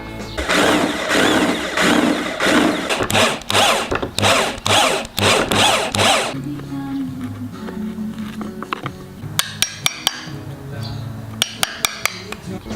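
A power drill bores a jack hole in an old acoustic guitar being converted into a travel guitar, with loud pulsing bursts of whirring for about six seconds, followed by quieter handling clinks and taps.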